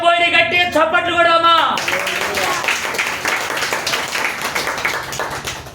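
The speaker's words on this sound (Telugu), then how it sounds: "గట్టి చప్పట్లు కూడా." A church congregation claps loudly, a burst of hand claps that follows a sung or spoken line and then thins into scattered claps and murmuring voices.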